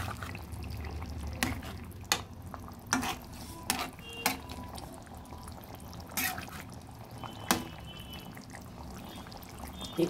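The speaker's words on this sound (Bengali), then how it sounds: "হালকাভাবে নেড়ে দিলাম।" Katla fish curry with raw banana is stirred in a pan, with a spoon scraping and knocking against the metal in scattered sharp clicks over a soft simmering hiss.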